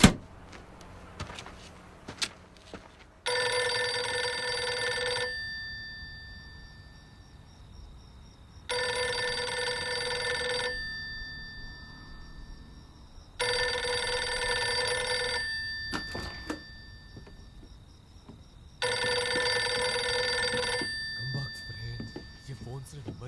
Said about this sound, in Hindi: Phone call.